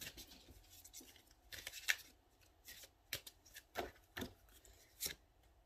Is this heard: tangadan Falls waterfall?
no